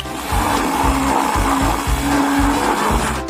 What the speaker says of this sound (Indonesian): 1 sendok es krim dalam blender dan sedikit mustard sudah cukup.